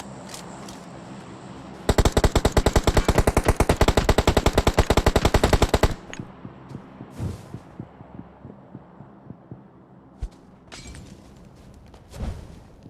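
Rapid automatic gunfire in the mobile shooter PUBG Mobile, a loud, sustained burst of about four seconds followed by scattered single shots and impacts over a constant game ambience.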